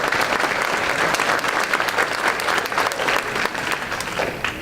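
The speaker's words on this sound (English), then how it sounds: "Let's give them a round of applause." Audience at a school district awards ceremony clapping for student award recipients, full sustained applause, loud and dense from start to finish with a few faint voices mixed in.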